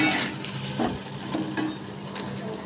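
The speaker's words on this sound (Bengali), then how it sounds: "আমি আঁচটাকে কম রেখে এই বড়াগুলোকে আস্তে আস্তে করে ভেজে নেব।" Lentil vadas for dahi vada fry slowly in oil over low heat, giving a soft, steady sizzling hiss with a few light clicks, close by and with no talking.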